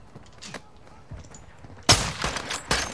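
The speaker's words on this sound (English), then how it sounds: "someone's shooting at me" Gunfire in Call of Duty Modern Warfare II: a few faint distant shots, then a loud close burst of firing with sharp cracks.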